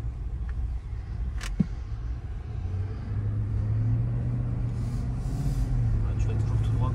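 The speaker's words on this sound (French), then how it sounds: "La sonorité de l'échappement n'est pas complètement occultée, elle n'est pas ridicule." Car engine and exhaust rumbling steadily while driving, a low continuous drone that swells slightly after a few seconds, with people talking over it inside the cabin.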